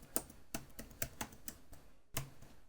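Keys on a computer keyboard are tapped in a quick, uneven run of about ten distinct clicks, close and fairly quiet, with one short pause before a final keystroke.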